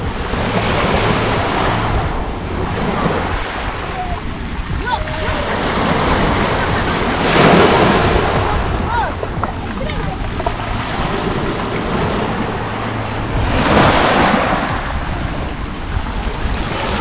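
Black Sea waves at Lazarevskoye, Sochi, surge and wash ashore in slow recurring swells while steady wind buffets the microphone with a low rumble.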